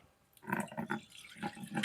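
Thin rice water (kanji), left standing with cooked rice for a week, is strained and poured off, giving close watery trickles and splashes in several short bursts.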